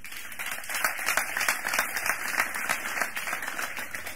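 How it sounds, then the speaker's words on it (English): A church congregation claps for Jesus Christ during a sermon, a dense, continuous burst of many hands with rapid, uneven claps throughout. "Clap for Jesus Christ"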